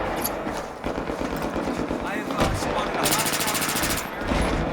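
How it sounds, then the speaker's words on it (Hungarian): Machine-gun fire and gunshots from Battlefield 3 online combat, with rapid bursts and crackling shots over a constant din of engines and battle noise, while a player talks over it. "Fent a tetőről lövik"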